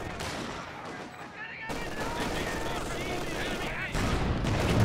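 Rapid machine gun bursts and scattered rifle fire crackle continuously through a battle in the real-time strategy game Company of Heroes 2, dense and steady under a commentator's voice.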